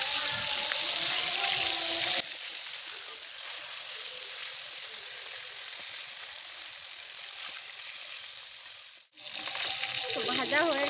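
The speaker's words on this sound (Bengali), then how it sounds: "এবার মাছগুলো ভেজে নেব।" Rohu fish pieces rubbed with salt and turmeric frying in hot oil, a loud steady sizzle at first, then a quieter, muffled stretch and a sharp dip before the close, bright sizzle returns, no voices.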